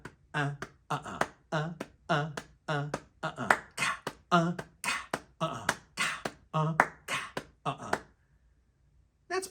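Steady hand claps keep a 110 bpm pulse while a voice vocally imitates a side stick and rack tom groove, claps and sung drum syllables interlocking in a tight repeating rhythm before stopping abruptly.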